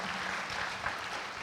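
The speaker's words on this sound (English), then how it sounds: "Let's give a round of applause to all your teachers for setting this up." A school audience at a film panel event applauds in a brief, dense wash of clapping. The sound is moderately faint and continuous, with no talking over it.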